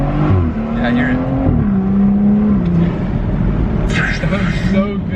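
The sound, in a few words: BMW with MST intake accelerating, turbo audible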